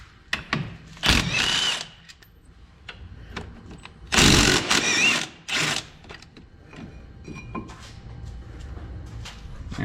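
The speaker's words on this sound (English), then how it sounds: "we'll go ahead and remove our caliper mounting bracket by removing these two 18 millimeter bolts" Power tool on the 18 mm caliper mounting bracket bolts of a Chrysler PT Cruiser front brake, with two loud close bursts of whirring and rattling, several shorter bursts, and faint clanks between them.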